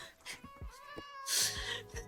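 A cat meows twice in the video game Minecraft, a short call and then a louder, harsher one, both faint against low thumps and background noise.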